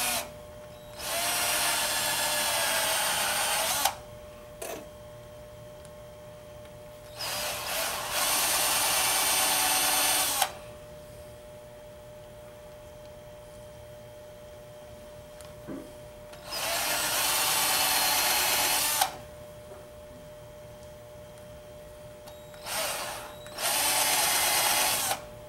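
A power drill bores into wood in four bursts of several seconds each, separated by quiet pauses.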